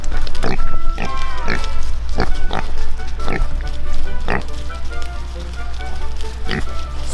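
Pigs oink and grunt repeatedly in short bursts while being herded home on a farm, close and fairly loud, with a person calling to them throughout over steady background noise.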